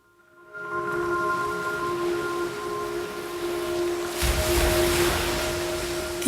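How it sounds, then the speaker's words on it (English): Ocean surf washes in as a steady broadband hiss that builds and grows rougher midway, accompanied by sustained musical tones. "The ocean."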